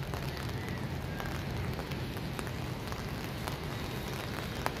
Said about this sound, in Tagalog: umuulan na naman mga tropa